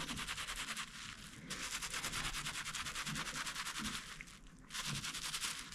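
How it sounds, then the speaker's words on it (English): Hands rub wet wool felt through a nylon layer, producing rhythmic back-and-forth swishing scrubs, close and moderately loud, with a couple of brief pauses between strokes. "So very gently, I'm kind of holding it in place but rubbing a little bit as I go along."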